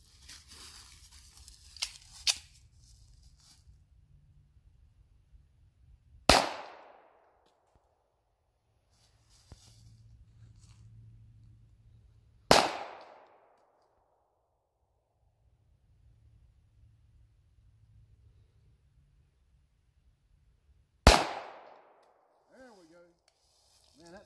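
Three gunshots are fired with target rounds at a refrigerator outdoors, each a loud, sharp crack followed by a short decay. Long quiet gaps separate the shots, and faint handling noise and a murmur of voices are heard between them.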